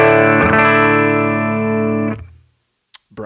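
A clean, undistorted electric guitar chord through a ProCo Brat pedal with distortion off, tone at noon and volume at 3, rings out loudly alone for about two seconds, then cuts off into silence before a brief voice.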